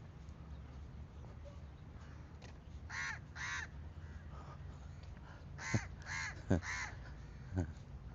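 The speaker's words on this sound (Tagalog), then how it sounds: "Ingay nitong uwak na ito." Several crow caws in Saudi Arabia, loud and harsh, come in short bursts of two or three over a steady low rumble, with a few scattered quieter calls between.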